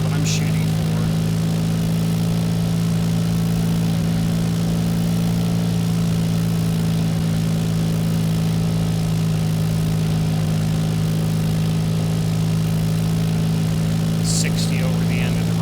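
Airplane engine idling at low power during a landing approach in a flight simulator game, a steady low drone with a constant tonal hum holding throughout, with brief faint clicks near the start and end.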